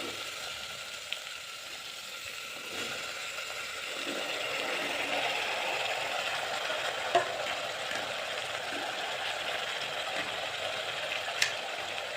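A spoon stirs cucumber palya, made from overripe cucumber, in a hot pan, giving a steady sizzle with soft scraping and a couple of sharp clicks against the pan.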